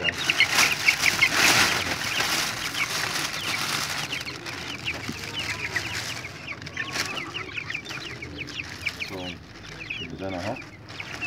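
White broiler chickens cluck and squawk continuously for the whole stretch at a poultry sale, fairly close and busy, with a few louder calls rising near the start and faint voices in the background.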